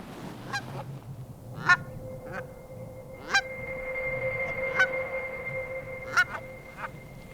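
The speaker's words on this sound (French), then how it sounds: "La bernache de Hutchins arrive du centre du continent." A flock of cackling geese (Hutchins's geese) honks in repeated sharp calls at an uneven rhythm, some near and loud, others fainter, over a steady low rumble and a faint sustained tone.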